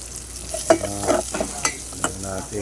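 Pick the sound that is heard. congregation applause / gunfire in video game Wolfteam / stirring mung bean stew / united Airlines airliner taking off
stirring mung bean stew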